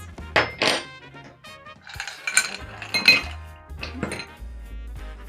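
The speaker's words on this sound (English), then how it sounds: "Add some ice." Ice cubes dropped into a glass for a Christmas Old Fashioned cocktail, making a series of bright, close clinks and rattles that come in separate knocks over several seconds against an otherwise quiet kitchen.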